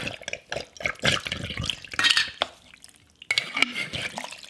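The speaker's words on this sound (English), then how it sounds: "So I'm giving this all a good stir." Homemade soup with green chili being stirred in a pot, wet sloshing and scraping strokes that come in irregular bursts, then a brief pause and a final stir.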